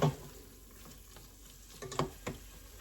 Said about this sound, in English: So now I'm adding in just 1/4 cup of the broth to just kind of use that to help mix the flour up a little bit in with the onions.